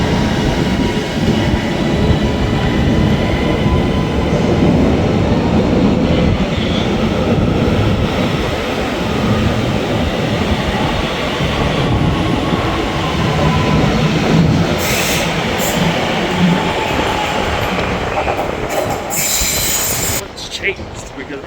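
A train rumbles loudly into Preston station, wheels grinding and squealing on the rails as it passes close by the platform, with a short sharp hiss near the end.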